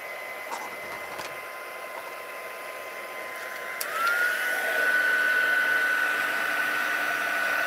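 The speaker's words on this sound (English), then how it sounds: "I'm going to set the heat tool to the highest" Heat tool switched on to its highest setting and blowing hot air over a small vellum lampshade: a steady whirring blower hum with a thin whine that rises and holds after a soft start about four seconds in.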